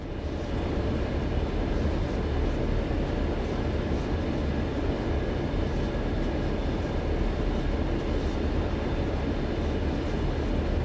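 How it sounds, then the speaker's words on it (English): Continuous rumbling train noise from Train Sim World, with the rear cars running into the driver's train, a steady loud rolling drone with rattling throughout, no talk. "You can see from the bumpiness and the sounds that the back of the train is running into me."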